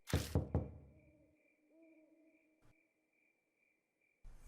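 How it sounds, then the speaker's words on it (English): A knock at a door in the horror game Death Mark: two or three sharp raps up front, fading into a quiet, eerie tonal drone, with one faint thump later. "A knock breaks my train of thought."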